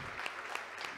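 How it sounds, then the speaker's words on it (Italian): Audience applause at an evening talk on sacred geometry, heard as a faint, brief patter of clapping from a modest crowd with a few sharper individual claps. "Io un applauso, mi sembra, agli organizzatori."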